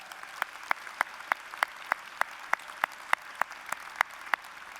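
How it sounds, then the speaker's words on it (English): Audience applause at a university chancellor's inauguration ceremony, with one or a few nearby hands clapping in an even, regular rhythm, sharp and distinct over a softer wash of crowd clapping. "he deserves a round of applause"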